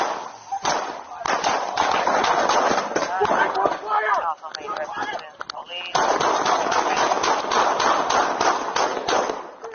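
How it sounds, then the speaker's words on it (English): Rapid bursts of gunfire crack out during a police shootout, loud and close, mixed with frantic shouting from officers throughout. "Shots fired!"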